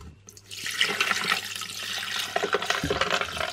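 Liquid for homemade bubble tea from a DIY kit is poured into a cup, a steady splashing, gurgling stream close by that runs for a few seconds with no talking.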